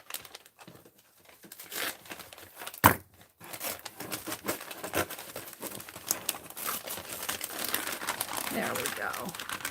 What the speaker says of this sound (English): I'm being very careful how I unwrap this